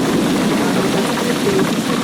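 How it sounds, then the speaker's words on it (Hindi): Heavy, storm-like rain in a Hindi cartoon pours as a dense, continuous hiss, loud and unbroken across the short stretch, with no voices. "बेटा, ये बारिश तो तूफान जैसी है।"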